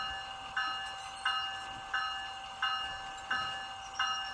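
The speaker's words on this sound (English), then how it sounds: "The bell." A small locomotive bell clangs steadily, about one strike every two-thirds of a second, bright and ringing against a soft mechanical hum.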